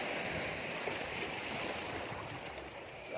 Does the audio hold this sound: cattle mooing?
no